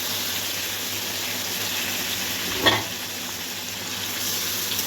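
Marinated mutton coated in spices and yogurt goes into a pan with fried potatoes and onions, producing a steady hiss of frying with a brief louder splash and sizzle midway as it hits the hot oil.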